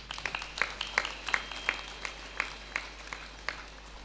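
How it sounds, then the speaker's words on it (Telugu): Audience applause at a stage event, a light scattering of claps in an uneven rhythm, fairly faint and a little distant, with no voices over it. "చప్పట్లు కొడదాం."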